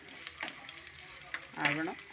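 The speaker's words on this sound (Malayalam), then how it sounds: "ചുവന്നുള്ളി. അതൊന്ന് പതുക്കെ വഴറ്റി പതുക്കെ ഒന്ന് ചുവന്ന് വരുമ്പോൾ" Soft, steady sizzle of shallots frying in a pan for fish curry, with a faint stir and a brief voice toward the end.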